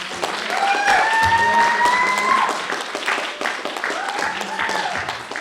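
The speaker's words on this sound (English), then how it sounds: "A big round of applause for all our readers and our audience." An audience applauds at a poetry and fiction reading on a college campus, steady clapping filling the room at close range, with a clear tonal call sounding over it early on and the applause thinning toward the end.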